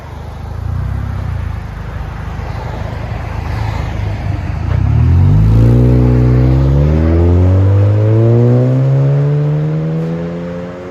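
A 2017 Honda Accord 2.4L with MagnaFlow Magnapack mufflers idles and then revs up several times, the exhaust note rising and falling loud and close.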